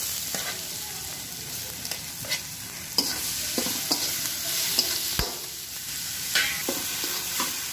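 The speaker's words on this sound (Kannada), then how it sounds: "ಇವಾಗ ಈರುಳ್ಳಿ ಹಾಕೋತಾ ಇದ್ದೀನಿ." Onions and garlic frying in a pan for gobi manchurian, a continuous bright sizzle with frequent spoon clicks and scrapes against the pan, close by with no talking.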